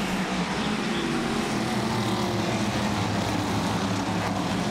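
Modified race cars thunder around the track at Bowman Gray Stadium, several engines roaring together in a steady, loud, unbroken drone with no voices.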